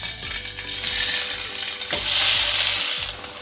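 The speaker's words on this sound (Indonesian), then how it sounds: "Panaskan sedikit minyak lagi, kemudian goreng tahu." Tofu frying in a little hot oil gives a close, steady sizzle that swells louder midway, with light stirring clinks and no talking.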